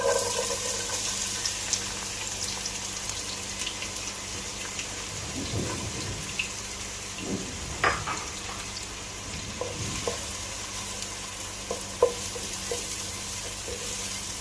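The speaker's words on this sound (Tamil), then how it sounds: "ஆயில் சூடானதும் நம்ம கட் பண்ணி வச்சுருக்கிற ஆனியன்ஸ் போட்டுக்கலாம்" Chopped onions fry in a cup of hot oil in a pan, a continuous close sizzle with occasional stirring scrapes and soft clinks.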